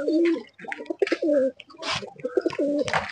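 A pigeon coos close by in a rapid run of throaty, rolling calls separated by short pauses, with no voices.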